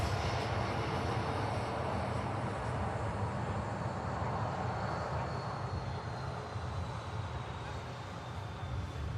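At Manchester Airport an EasyJet airliner departs on slightly derated takeoff thrust, its engines giving a steady, moderately loud roar with a thin high whine that slowly falls in pitch.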